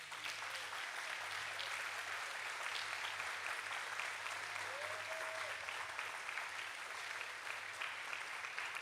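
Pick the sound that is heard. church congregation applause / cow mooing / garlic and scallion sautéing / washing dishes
church congregation applause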